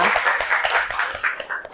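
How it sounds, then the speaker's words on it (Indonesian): Group hand clapping during an ice-breaking clap routine at a briefing, a short loud burst of many hands with scattered claps standing out, and little talk. "Tepuk tangan untuk kita semua."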